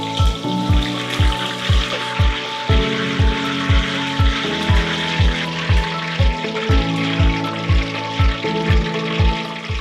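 Chicken frying in oil in a pan, a steady loud sizzle running throughout with regular rhythmic knocks, likely a spatula stirring, and a low tonal hum underneath.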